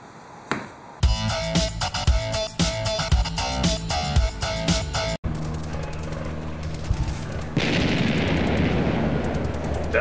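Loud bursts of video game gunfire and heavy explosions in a dense, continuous barrage, ending in a broad, roaring blast.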